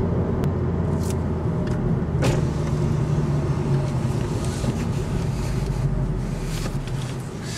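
Honda Civic hatchback with a VTEC turbo engine pulls away under throttle: a steady, broadband cabin drone of engine and road noise that holds constant throughout, with faint wind rush and no voices.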